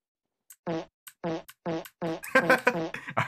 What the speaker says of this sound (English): she keeps farting